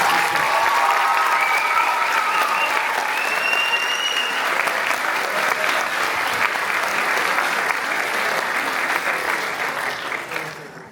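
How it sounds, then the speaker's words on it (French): An audience at a French stage event applauds the team in a long, loud, continuous burst of clapping. A few voices and whoops rise over it near the start, and the clapping fades out toward the end. "Donc je pense qu'on peut les applaudir."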